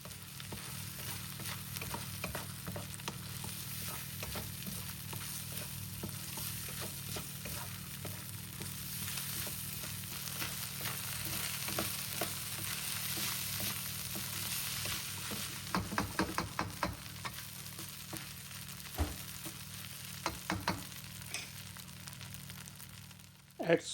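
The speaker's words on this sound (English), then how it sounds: "Mix it nicely, high flame for few seconds until the rice all vegetable mixed together." Thai fried rice with vegetables is stir-fried over a high flame, giving a steady sizzle and frying hiss throughout, with a spatula scraping and clattering in quick bursts near the end, close and without talk.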